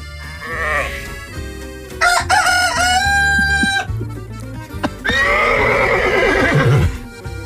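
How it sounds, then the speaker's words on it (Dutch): Recorded farm animal calls play in sequence: a horse neighs and whinnies, then a rooster crows loudly, with other barnyard cries between, all clear and close with no talking. "Onthoud de volgende dierengeluiden van de boerderij."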